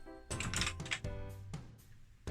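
Fingers typing a program on a BBC Micro computer keyboard, a close quick run of clacking keystrokes in short bursts with brief pauses, alone without talk.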